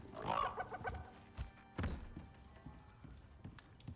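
Chickens cluck in the survival game Icarus, with a burst of busy, close clucking up front, then scattered softer clucks and a few sharp taps over quiet game ambience.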